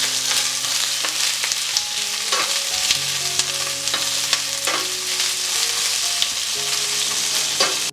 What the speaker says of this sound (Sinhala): ඊළඟට කරපිංච සහ අපේ අවු මිරිස් ටික මේ විදිහට මේක පොඩ්ඩක් අපි බෙද ගන්නවා.